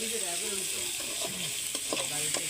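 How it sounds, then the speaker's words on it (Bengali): Vegetables fry in freshly added oil at a picnic cookout, a steady sizzle running throughout with scraping stirring strokes near the end. "এই যে আবার নতুন করে তেল দেওয়া হলো তেল ছাড়া ভাজি ভালো লাগছে না"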